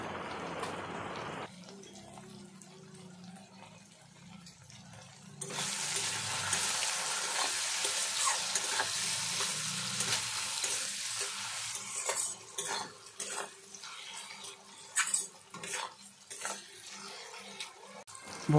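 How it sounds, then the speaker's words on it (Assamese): Taro stolons seasoned with salt and turmeric fry in a pan, starting as a quiet simmer and then bursting into a loud, steady sizzle with scraping stirs and clatter toward the end. "এতিয়া মই ভালদৰে ভাজি ল'ম।"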